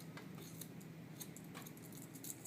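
Hair being cut with scissors during a haircutting demonstration, several crisp metallic snips in quick succession, close and soft over quiet room noise.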